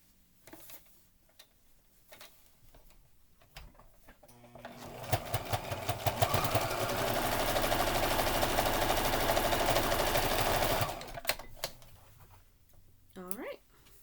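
Sewing machine stitching a fabric face mask cover, running in a steady buzzing burst of several seconds between quieter stretches with isolated clicks; a person talks before and after the stitching.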